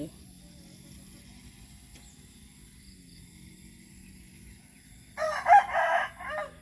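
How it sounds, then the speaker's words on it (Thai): A rooster crows once near the end, a loud drawn-out call rising out of an otherwise quiet background hum. "ไก่"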